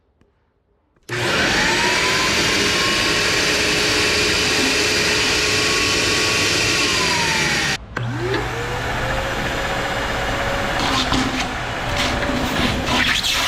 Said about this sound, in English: One of the clips is gonna be the Dewalt, one's gonna be the old style vacuum.